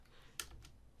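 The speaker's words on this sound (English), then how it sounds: "we're going to carefully type Digitizing" A couple of soft, close keystrokes on a computer keyboard, one sharper click followed by a lighter tap in a quiet room.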